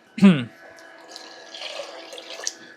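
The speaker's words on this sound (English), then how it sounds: "And I'm gonna add 4 cups of water." Water is poured into a pot while cooking Brazilian feijoada: a sharp splash at the start, then a softer, uneven trickle and sloshing for a couple of seconds, close by.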